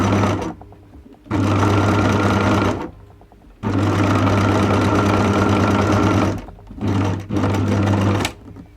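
An industrial sewing machine stitches a stretch-fabric top in three loud, steady bursts of rapid mechanical whirring, separated by short pauses and ending in two quick shorter runs.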